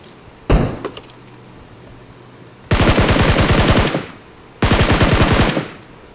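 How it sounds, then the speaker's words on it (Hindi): Two long automatic bursts of DP-28 machine gun fire in the PUBG Mobile battle royale game, each lasting over a second with rapid even shots, preceded by a single sharp loud report; no talk. "डीपी की आवाज है"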